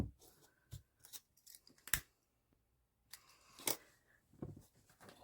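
Scissors snip through the extra lace ribbon on a layered loop hair bow, a few short crisp cuts spaced apart, close and fairly quiet with soft handling noises between.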